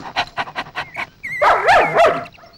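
Dogs bark and yelp in a rapid series of close, loud barks, then break into excited whining and whimpering.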